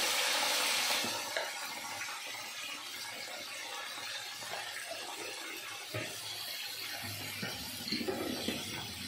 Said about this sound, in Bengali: ইঁচড়টা একটু লবণ দিয়ে, হলুদ দিয়ে ভেজে নেব